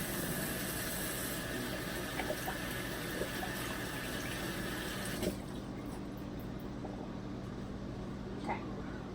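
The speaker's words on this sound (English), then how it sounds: "let's do a quick wash of our hands if you have a little bit of egg on" Tap water runs steadily into a sink during handwashing while baking cookies, a continuous close rushing hiss that thins out midway, with faint clinks over it and no talking.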